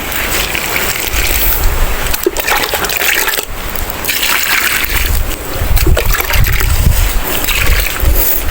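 Water being stirred and poured as it is mixed with molasses and salt into a drink for goats, loud close sloshing and splashing that continues throughout with brief knocks.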